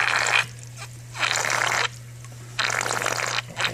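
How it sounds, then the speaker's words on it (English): A reef aquarium's siphon break gurgles as air bubbles rush down the return pipe after the pump is switched off, in loud bursts with short pauses between them over a steady low hum. "Those are the air bubbles going down the pipe so that my tank doesn't drain down into my sump."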